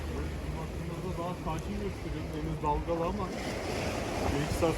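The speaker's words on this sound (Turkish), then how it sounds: "Deniz biraz dalgalı mı? Beklediğimizden biraz daha dalgalı sanki." Choppy sea at Garipçe with steady broadband surf and wind rumble filling the whole stretch, plus wind buffeting the microphone; a voice talks over it throughout.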